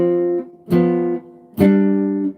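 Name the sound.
jazz shell voicing, two-note chords over a bass line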